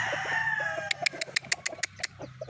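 An Allen Roundhead gamefowl rooster clucks at close range, a rapid series of sharp, distinct clucks after a brief stretch of low background murmur, with no talking.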